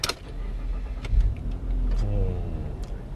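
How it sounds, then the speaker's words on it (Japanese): A Mitsubishi Outlander engine cranks and catches, then settles into a close, low idle with a slight rev, with no talking over it. "エンジンかけていただいて、"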